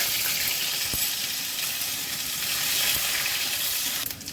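Dried chilies, cumin seeds and grated ginger sizzle in hot oil, making a steady, moderately loud hiss that holds evenly for several seconds.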